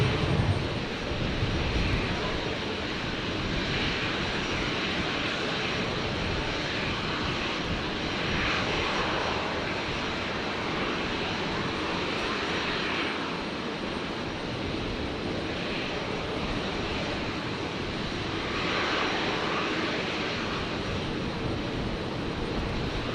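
A fixed-wing aircraft takes off from runway 01 right at Brisbane Airport, its engine a steady, loud roar that holds for over twenty seconds with slow swells and no voices over it.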